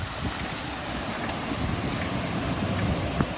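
Steady, loud wind buffets the microphone while cycling toward Zandvoort beach in the Netherlands, a continuous low rumbling roar with no talking.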